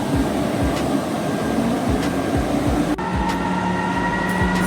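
An electric locomotive EP09 heads a train of Talbot wagons through a railway station built in 1846, with a steady loud rumble and rhythmic wheel clicks over rail joints and a brief dip partway through.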